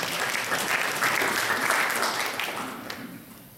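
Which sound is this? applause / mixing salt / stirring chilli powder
applause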